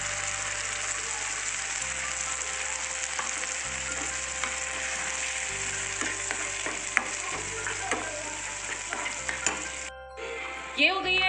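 Onions and smoothly ground paste fry in a pan with a steady, close sizzle and occasional stirring scrapes throughout.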